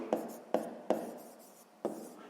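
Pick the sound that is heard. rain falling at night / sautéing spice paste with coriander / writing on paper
writing on paper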